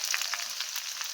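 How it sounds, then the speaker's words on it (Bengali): Spices and grated ginger sizzle in a hot pan, a continuous bright crackle with small bursts of spatter, close and steady, with no voices. "ভাজতে লাগলো"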